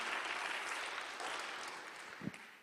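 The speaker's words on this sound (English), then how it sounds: "let's give him another round of applause" An audience claps at a folk hymn-singing performance, with dense, steady applause that gradually thins and fades, plus a single louder clap near the end.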